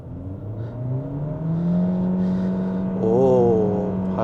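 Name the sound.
Proton eMas 7 PHEV car accelerating hard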